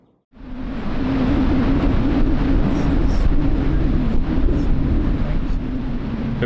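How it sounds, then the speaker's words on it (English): A waterfall roars in the background near a mountain stream in wet, fern-draped forest, a broad continuous rushing wash that swells in after a quiet start and holds steady throughout, with no voices. "You can hear the waterfall in the background."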